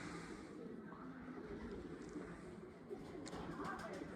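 Racing pigeons at a loft during a competition race give soft, low cooing against faint outdoor background noise, with a few brief sharper sounds toward the end.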